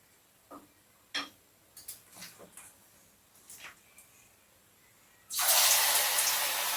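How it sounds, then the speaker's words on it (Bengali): Small red lentil pakoras go into hot oil: a few scattered light clicks and taps, then a sudden loud, steady sizzle of frying that continues to the end. "ছোট ছোট পকোড়াগুলো আমি ভেজে নিচ্ছি।"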